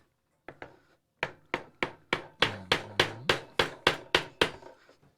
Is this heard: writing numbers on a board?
no